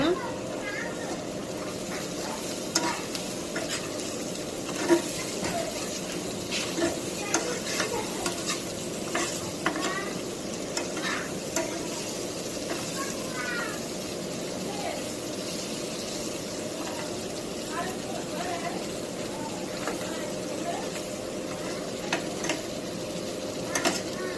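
Karela (bitter gourd) fries in a wok with a steady, moderate sizzle, punctuated by frequent scraping stirs of a spatula against the pan, while a person talks intermittently.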